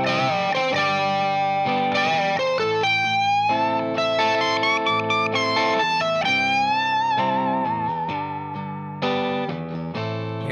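Electric guitar lead lick from a song climbing up the octave, played with effects and distortion: a steady run of sustained, bending notes over about ten seconds, loud and close with no talking.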